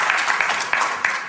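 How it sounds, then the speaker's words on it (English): An audience at a training seminar applauds briefly, a short burst of many hands clapping that sounds close and fairly loud. "Give them a round of applause."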